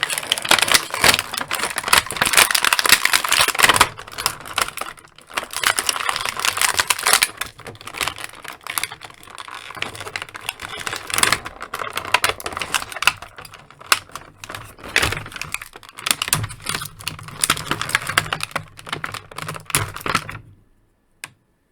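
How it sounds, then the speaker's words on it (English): Dense, continuous crinkling and crackling of a stiff plastic tray as a Transformers R.E.D. Optimus Prime figure is worked free, with rapid clicks and rustles that stop abruptly near the end. "Let's get Optimus out of his plastic tray and take a look at him."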